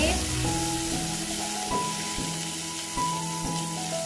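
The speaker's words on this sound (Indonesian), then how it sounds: "Kemudian kita tumis." Shallots, garlic and bird's eye chilies sauté in hot oil in a pan, giving a continuous sizzling hiss with light tapping and stirring noises throughout.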